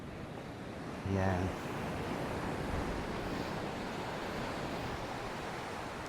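Calm sea waves wash steadily onto a beach near a homestay resort, a soft continuous surf with wind hiss, and a brief spoken word near the start.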